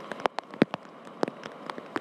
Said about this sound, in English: It's the soothing sound of the summertime rainy season.